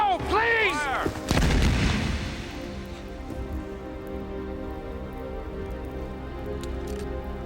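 Firing squad rifles go off in a single loud, close volley, the crack rolling into a long fading reverberant tail, with a brief pained voice just before in a period drama setting.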